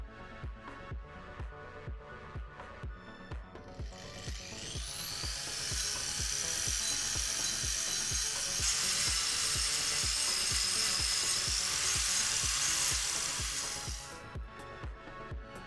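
An angle grinder fitted with a double-row diamond cup wheel spins up and grinds a surface, a loud, sustained high whine that rises, holds for several seconds and then winds down, with a rhythmic ticking throughout.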